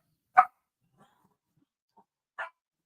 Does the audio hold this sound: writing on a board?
no